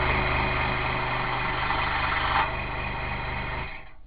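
A scroll saw cuts through wood with a steady, dense buzzing hum that holds evenly at close range, then winds down near the end as the blade slows.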